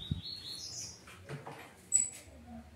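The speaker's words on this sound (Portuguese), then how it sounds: "Trouxe um coleirinho para dar uns cantinhos aqui também" Songbirds in a breeding aviary, including a coleirinho, give a few faint, scattered chirps and thin high tweets amid quiet background rustling.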